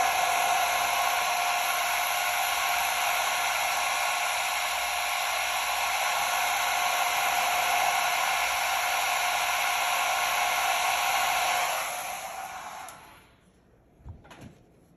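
A hair dryer blows steadily and loudly to dry paint on a painted holiday card, running as a constant close whir for about twelve seconds before switching off, followed by a couple of faint handling clicks.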